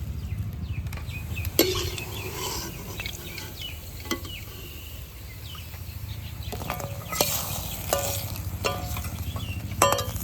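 Chandrapuli sweets frying in oil give a steady faint sizzle, broken by a few sharp clinks and scrapes from a utensil. No voices.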